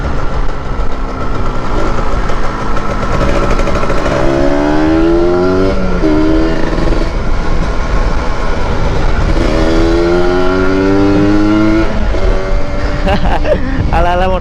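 Kawasaki Ninja motorcycle on a long road ride, a loud continuous engine drone with rising and falling pitch sweeps as it revs through gears, heavy wind rumble underneath, and people talking over it.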